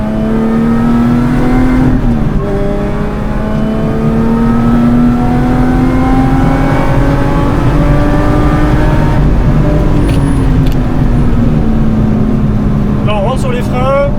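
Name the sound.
Lotus Exige S car engine revving on race track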